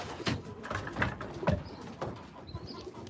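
Pigeons in a breeder loft give soft, close coos and a few short calls in a quiet space, with no voices.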